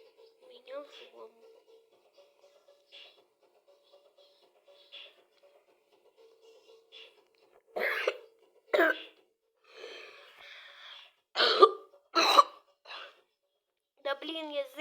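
A person troubled by a persistent cough lets out several harsh, close coughing bursts in quick succession, preceded by low murmuring and soft shuffling.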